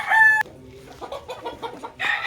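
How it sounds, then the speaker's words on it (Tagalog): Rooster crowing up close in a backyard flock of young birds, a sharp, tonal crow opening the moment, followed by softer clucks and scattered chicken sounds, then another loud call starting at the end. "Malakas ang manok."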